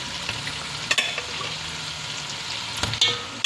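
Salted goat meat sizzles in a pan for a Sri Lankan goat curry, a steady close crackle of frying with occasional sharp scrapes and clinks as the pieces are stirred.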